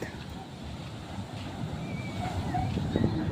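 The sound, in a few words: sea waves breaking at night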